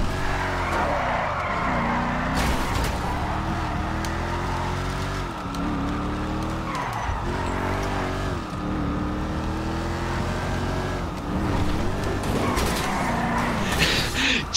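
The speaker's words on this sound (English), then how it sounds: "Oh, major drifting." A car drifts in a video game, its engine droning with wavering pitch as tires squeal steadily across a long slide, loud and close.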